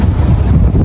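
Strong outdoor wind buffeting the microphone, a loud, continuous low rumbling roar with no pauses.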